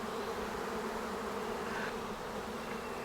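A swarm of honeybees clustered on a bare hand gives a dense, continuous buzz, close and steady throughout with no pauses and no voices.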